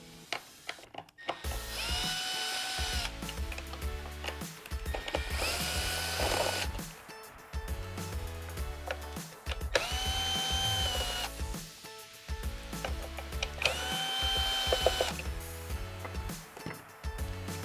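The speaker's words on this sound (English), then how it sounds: "I'm gonna remove the pump from the tank, and that's done with these 4 7/16 bolts." A power tool spins out four 7/16 bolts holding a pump to its tank, in long whirring bursts of several seconds each with short pauses between, steady and fairly loud, with no talking.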